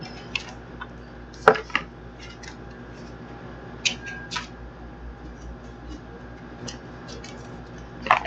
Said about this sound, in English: So I'm going to get these cards out.